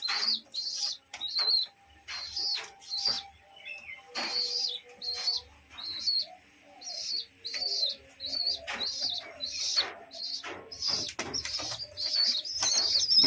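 A pigeon feeds its chicks, and a rhythmic series of thin, high cheeping begging calls repeats in short bursts with soft flutters and shuffling. The sound is close and fairly quiet, with no speech.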